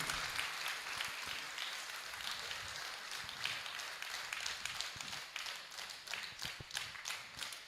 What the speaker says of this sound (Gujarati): આપણે સૌ જોરદાર તાળીઓથી આ સન્માનને વધાવીએ